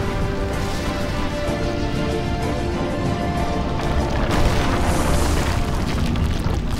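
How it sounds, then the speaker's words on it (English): Massive explosion from the destruction of the Well, a sustained, dense roaring boom that fills the whole stretch with continuous loud rumble and crashing debris, without any voices. "The Well's destruction resulted in a massive explosion that tore the world apart."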